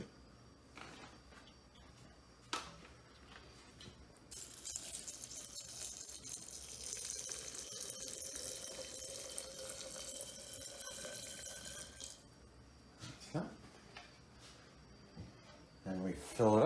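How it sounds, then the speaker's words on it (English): Tap water runs steadily into a rock tumbler barrel filled with rocks for about eight seconds, a continuous hissing pour under quiet background noise, with small knocks before and after. "Now what we got to do is fill the water up to right below the top rocks, right to the bottom of the top rocks."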